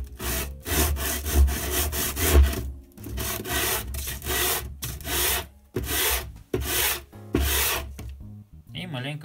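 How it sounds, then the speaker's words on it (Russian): Rough hand sanding with coarse 80-grit sandpaper on a homemade planter base, a series of loud rasping back-and-forth strokes in an irregular rhythm with short pauses between, close up and without talking. "взять наждачку. В моем случае зернистость 80, она достаточно грубая."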